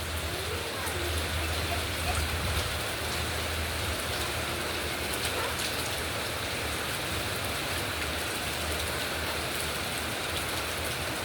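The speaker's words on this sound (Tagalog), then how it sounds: "Maligo sa ulan" Steady rain pouring down, a dense even hiss of drops hitting surfaces nearby, continuous with no pauses.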